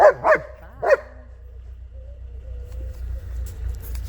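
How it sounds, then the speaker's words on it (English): Three quick, loud barks from nearby dogs open the scene, followed by quieter rustling and faint whimpering in the background. "there's no point in me keep talking over these lot barking"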